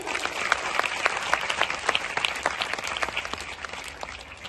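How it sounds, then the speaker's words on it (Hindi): An audience claps together in a hall at a speech honouring a Hindu activist, dense, steady applause with many close individual claps, sustained throughout and tapering slightly at the end. "इस पर एक बार तालियां होना चाहिए।"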